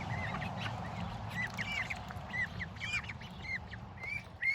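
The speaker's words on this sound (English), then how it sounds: "So the babies are quacking." Small ducklings quack and peep in quick, scattered bursts over a low background hum, fairly faint and close by.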